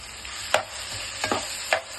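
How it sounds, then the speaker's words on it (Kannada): Mashed potatoes being stirred into a frying pan for aloo saagu with methi, a spoon scraping in a few distinct strokes over a steady low sizzle, close and alone with no voices. "ಆಲೂಗಡ್ಡೆ ಹಾಕ್ಬಿಟ್ಟು ಚೆನ್ನಾಗಿ ತಿರುಗಿಸಿ"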